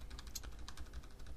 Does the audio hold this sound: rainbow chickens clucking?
no